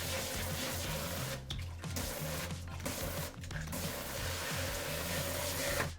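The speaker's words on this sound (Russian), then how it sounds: "Это у нас фильтрованная вода, а если так, это у нас обычная вода" A kitchen faucet runs continuously, dispensing filtered and then regular water, a steady close hiss with brief dips and clicks partway through as the flow is switched, no talking.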